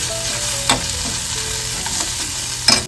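Onion-tomato masala with turmeric and chilli masala being stirred in a pan, a steady close sizzle broken by a few scraping spoon strokes near the start and end, no voices.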